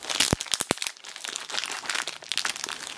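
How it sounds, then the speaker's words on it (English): Plastic packaging around a Beyblade spinning top toy is cut and pulled open, giving a few sharp snaps at first and then a run of close crinkling and crunching. "this plastic does not want to be cut"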